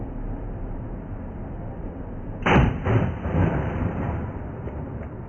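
MK-87 Mod 1 line throwing kit launcher, an M-14 modification, fires a rubber projectile with an attached line spool in one sharp, close report, followed by a few fainter trailing thumps and a hissing rush over a steady background hiss.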